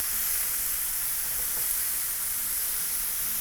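Beef pieces for chilli beef frying in a pan give a steady, close sizzle, bright and hissing, continuous with no voices.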